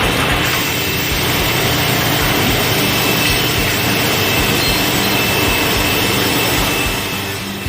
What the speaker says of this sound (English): This automatic dump table is used in conjunction with a rip saw to allow ripped pieces to be returned to the in-feed end of the saw.